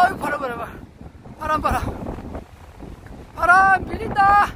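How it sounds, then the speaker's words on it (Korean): Strong coastal wind on Biyangdo, a small islet off Udo island, buffets the microphone with a heavy, uneven low rumble while a person talks over it in bursts. "오, 바람 너무 많다."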